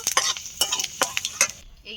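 A spoon scrapes and clinks against a kadai while bay leaves, a dried red chilli and panch phoron fry in oil, sharp metallic taps in an uneven rhythm over a faint sizzle.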